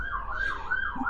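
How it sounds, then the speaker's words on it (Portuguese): A wailing emergency siren effect rises and falls in a quick, steady warble, moderately quiet and heard alone without talk. "deixa eu passar a sirene."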